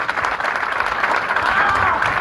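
An audience at a political support rally for the president claps in sustained, fairly dense applause, with crowd noise and a voice faintly mixed in.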